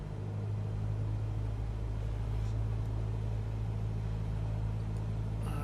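Steady droning engine of a Cessna 172SP aircraft under increasing throttle, a constant loud hum with a low rumble that holds throughout.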